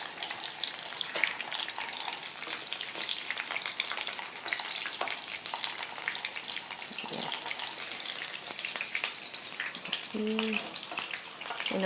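Garlic-marinated fish shallow-frying in oil in a home kitchen, a dense, crackling sizzle that carries steadily and fairly close, with scattered pops and occasional faint clinks rising over the continuous hiss.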